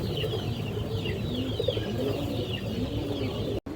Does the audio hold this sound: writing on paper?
no